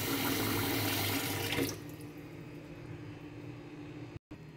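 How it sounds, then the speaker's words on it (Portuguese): Tap water pours into a cooking pot, a loud steady gush for under two seconds before the faucet is shut off, followed by quiet room hum. "vou ligar a água na panela porque a panela tá aqui"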